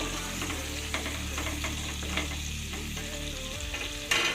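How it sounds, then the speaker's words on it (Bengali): Pointed gourd (potol) pieces frying in oil in a pan over medium heat, a steady close sizzle with occasional stirring clicks and a brief sharp spatter at the end. "গ্যাসের হিটটা মিডিয়ামে রেখে সময় নিয়ে খুব ধীরে ধীরে খুব সুন্দরভাবে পটলগুলোকে লাল করে ভেজে নিতে হবে"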